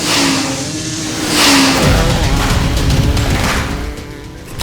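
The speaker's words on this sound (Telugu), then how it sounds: "ఇంజిన్ స్టార్ట్ చేద్దామా" A Suzuki e-Access electric scooter roars and revs up loudly, with a rising whine and steady throaty rumble throughout, no voices.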